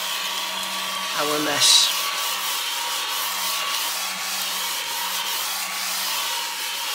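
A small handheld vacuum sucks up metal swarf on a workbench while a 1:6 scale Mustang GT500 model is being built. It makes a steady, close, whining hum the whole time, with a brief scraping rattle and a few spoken words early on.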